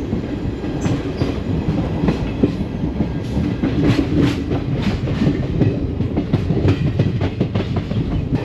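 The Mysuru–Talaguppa Intercity Express runs on its rails with a loud, steady rumble, and rhythmic clickety-clack wheel beats sound close throughout.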